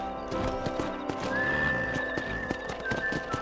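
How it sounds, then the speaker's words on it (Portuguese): Horse hooves clip-clopping in a steady rhythm with a neigh, from the video game Red Dead Redemption, close and clear over a faint musical tone, with no talk. "Vou pegar o cavalo aí."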